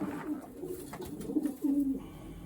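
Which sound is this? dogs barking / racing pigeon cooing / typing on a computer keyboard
racing pigeon cooing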